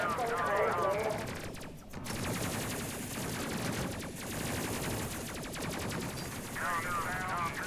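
Rapid bursts of ship gunfire from the Space Crew video game, dense repeated shots hammering on almost without pause under low rumbling explosions and space combat noise.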